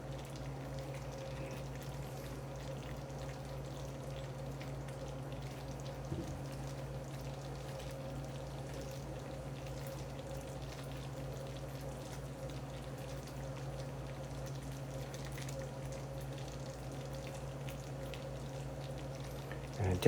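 A sugar mixture for Christmas crack boils hard in an enamel cast iron saucepan, giving a steady, continuous bubbling hiss over a low constant hum, with no clear pauses and a small clatter near the end.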